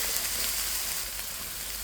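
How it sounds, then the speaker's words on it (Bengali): Ground chili, turmeric, ginger and cumin are stirred and fried in a pan for an egg dish, making a brief, even sizzle with a soft, continuous hiss close by. "সব মশলা দিয়ে এখন একটু নেড়ে ছেড়ে নিচ্ছি"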